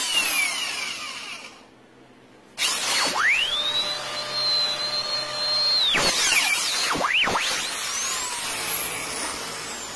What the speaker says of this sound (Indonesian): kita akan bor nanti, dan ini sebagai tempat untuk memasukkan oli yang baru